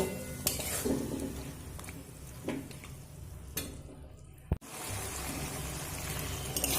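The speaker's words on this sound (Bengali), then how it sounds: "পরিমাণ মতো লবণ দিয়ে চিকেনটা খুব সুন্দর করে কষিয়ে নেব" Chicken pieces with turmeric and salt are stirred and sautéed in a pan, a steady sizzle under repeated spatula scrapes, with one sharp utensil knock midway and no voices.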